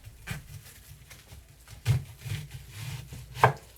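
A knife cuts through raw beef kidney on a board, giving a few separate soft chopping knocks against a quiet background, with no one talking.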